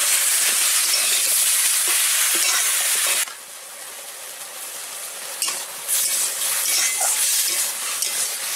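Bottle gourd sautés in a pan as a loud, even sizzle. The sizzle drops noticeably quieter partway through, then swells again with scraping stir sounds and no talking.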